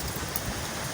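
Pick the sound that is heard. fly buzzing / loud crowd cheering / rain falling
rain falling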